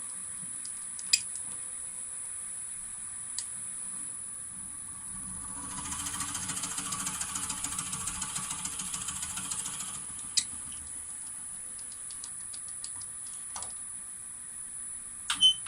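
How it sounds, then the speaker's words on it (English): A steady high-pitched lathe whine runs throughout at slow speed, with a rougher grinding sound in the middle for a few seconds as a Forstner bit drills a mortise in wood, and occasional clicks. "So we're just going to make a little mortise using this drill."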